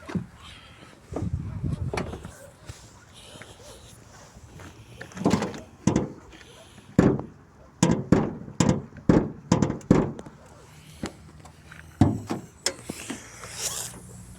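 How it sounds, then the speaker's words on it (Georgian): A run of sharp metallic clicks and clunks of a Toyota Land Cruiser Prado diesel's hood latch being released and the hood lifted, with quiet pauses between bursts. "გახსენით კაპოტი"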